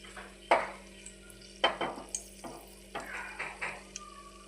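A bay leaf fries in oil in a pan while a spoon stirs, giving a handful of short scraping strokes over a faint sizzle. It is close and fairly quiet, with no talking.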